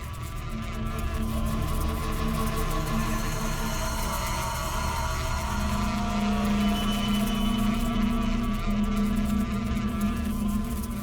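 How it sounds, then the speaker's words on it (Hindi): Bees buzz around a beehive in a forest, a dense, continuous drone that stays loud and close the whole time. "मधुमक्खी के छत्ते को छेड़ना"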